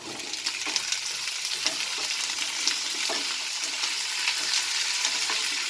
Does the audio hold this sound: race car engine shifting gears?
no